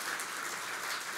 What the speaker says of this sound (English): a big round of applause for Adam as well